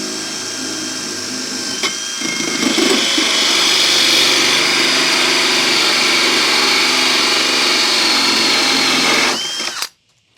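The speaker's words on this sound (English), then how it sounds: "and I use my router" A router cuts a round hole in a tongue-and-groove cedar ceiling board, a loud high whine that steps up as the bit bites and holds a steady grinding roar for several seconds before stopping abruptly.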